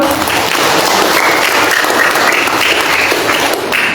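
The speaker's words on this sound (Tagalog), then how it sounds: "Wala kang palakpak kay Lord." A congregation applauds during a Sunday church service, loud, steady, dense clapping close by with no speech over it.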